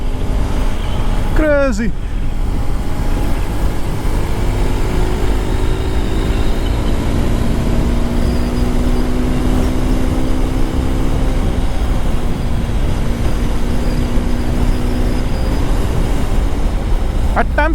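A Hero Xpulse 210 motorcycle cruising in fifth gear near 100 km/h produces a steady engine drone with slowly rising pitch under heavy wind rush, and a single word is spoken briefly.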